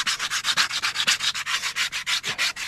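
Steady back-and-forth rasping of 60 grit sandpaper along the edge of a wooden canoe paddle, about seventeen even strokes in rapid rhythm, close and clear with no voices.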